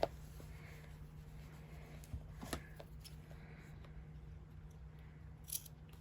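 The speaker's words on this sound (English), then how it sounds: "we're going to snip into the gusset just to the thread" Scissors snipping into the gusset of a fabric cushion cover; a few faint, crisp snips and small clicks spread through a quiet stretch with a low steady hum behind.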